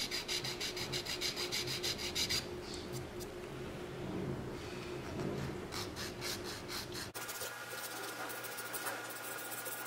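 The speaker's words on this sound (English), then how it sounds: "while I sand this" Close, soft scratchy rubbing of sandpaper on a Victorinox Ranger Grip 178 knife handle, steady strokes with a brief change in texture partway through.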